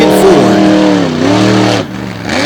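An off-road race truck revs hard close by on a dirt course, its engine pitch climbing and dropping in loud, sweeping surges.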